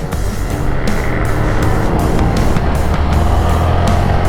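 Yamaha R15 sport motorcycle ridden on an evening road in Ban Bueng, a steady loud engine drone with wind rush and road noise, continuous and close throughout.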